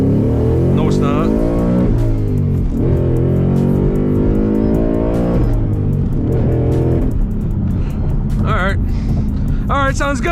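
A car engine with an MT-82 manual transmission revs hard and loud, pitch climbing and dropping through several pulls, with excited voices shouting over it near the end.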